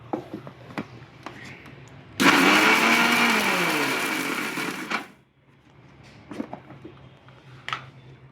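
An electric mixer grinder grinds spice masala in a short burst of about three seconds, a loud whirring buzz that rises and falls before cutting off, with quiet kitchen clatter before and after.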